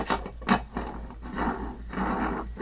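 Close, dry clicking and ratcheting scrapes as a reverse-threaded chainsaw clutch is screwed by hand onto the crankshaft, in short uneven bursts over a low steady hum.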